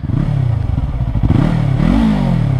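A Yamaha R3 motorcycle with an aftermarket muffler idles and revs with a deep, throaty rumble and rattling clatter, the pitch rising briefly then settling back, loud and close.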